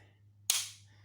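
A Tippmann Cronus paintball marker fires once with its lock bolt system engaging, a single sharp, bright pop with a short hissy tail over a low steady hum.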